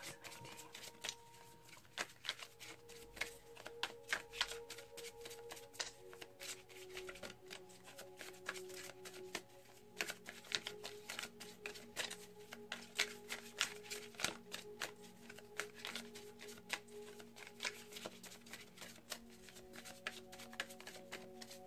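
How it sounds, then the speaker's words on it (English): Tarot cards being shuffled by hand in a steady, continuous riffling patter, near and moderately loud, with crisp flicks and small taps throughout and no talking. "Usually I like to have a card pop out to signal the end of the shuffle."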